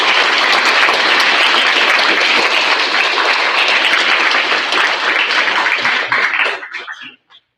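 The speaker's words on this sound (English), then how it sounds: "let's give our scientists a round of applause" Loud, dense applause for scientists at a sixth grade school awards ceremony, a close crowd clapping steadily before quickly dying away into silence near the end.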